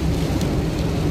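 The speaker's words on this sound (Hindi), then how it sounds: "अभी पिछले 1-2 घंटे से ऐसी बारिश हो रही है" Steady, dense rain hisses continuously, a heavy downpour in Islamabad with a low rumbling undertone and no voices.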